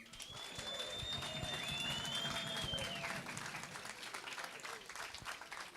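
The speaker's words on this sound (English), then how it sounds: "Let us clap for him," An audience at a Kenyan graduation ceremony claps in a sustained, dense wash of applause, with high-pitched whistles or calls rising over it in the first half before the clapping thins.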